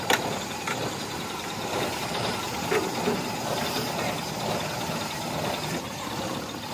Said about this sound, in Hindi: गाड़ी का जो आरपीएम है वो अभी फ्लक्चुएट कर रहा है, ऊपर नीचे हो रहा है।